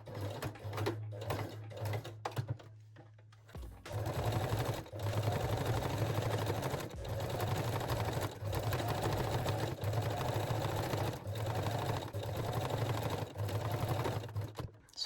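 A sewing machine runs in steady bursts while locking a seam on a garter belt, stitching backward and then forward again, with a brief pause near the start before a long continuous run of rapid mechanical clatter.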